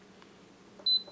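An Instant Pot gives one short, clear electronic beep as its pressure cook button is pressed, heard close over a quiet kitchen background with faint clicks.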